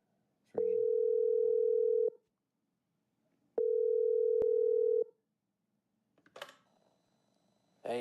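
Two long, steady electronic ring tones, each about a second and a half, separated by a pause, followed by a brief rustle and a voice starting.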